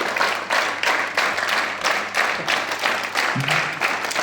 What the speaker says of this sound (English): The Prayan Krishna, how is he clapping?